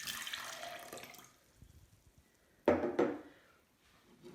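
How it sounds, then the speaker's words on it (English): Water runs and splashes as a flower vase is filled, a steady stream that fades and then a brief louder gush with splashing, close by and without talking. "Okay, so fill the vase with water."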